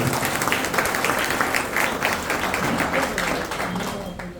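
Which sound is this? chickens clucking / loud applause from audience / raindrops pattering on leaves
loud applause from audience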